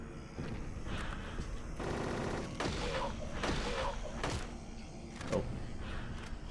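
Rapid bursts of gunfire in the Silent Hill 3 video game during a boss fight, repeated loud shots in clustered volleys with brief gaps between them, plus a soft voice in the background.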